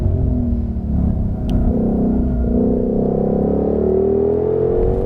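A 2020 Ford Mustang Shelby GT500 in track mode with its automatic gearbox runs at a loud, close engine drone, the pitch rising steadily as it pulls and pausing briefly around a shift.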